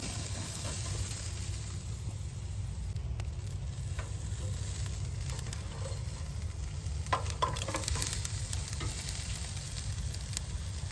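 Asparagus spears sizzle on a hot grill with a steady, dense hiss and a few scattered pops and crackles, close and continuous for the whole stretch with no voices.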